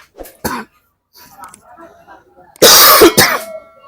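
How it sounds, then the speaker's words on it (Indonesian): Two loud, harsh bursts like a cough or throat clearing break in near the end, after some quieter talking earlier. "Lu batuk mulu"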